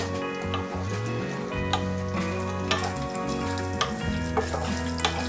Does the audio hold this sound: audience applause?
no